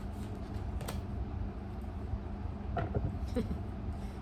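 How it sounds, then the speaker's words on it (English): Tarot cards being shuffled indoors, with a few soft riffling, papery bursts against a steady low hum, loudest near the start and again toward the end. "let's just shuffle the cards"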